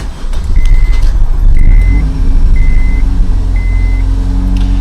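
A Honda Civic Mk8 engine with a freshly cleaned throttle body turns over and settles into a loud, lumpy, uneven idle, with a few short electronic beeps repeating over the rumble.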